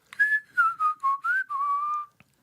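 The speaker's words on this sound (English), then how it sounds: "Oh, I was just whistling" Someone whistles a short melodic tune alone, six or seven clear sustained notes in a row, close and fairly soft, ending in silence.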